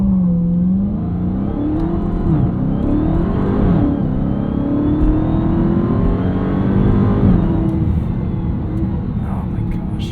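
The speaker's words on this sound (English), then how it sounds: "Okay, let's do a launch control. 1500 RPM, that should be pretty good." A 2023 Dodge Charger SRT Hellcat Jailbreak with a 717 hp engine launches hard from about 1500 rpm, its engine roaring and climbing steadily, close and loud over roughly ten seconds.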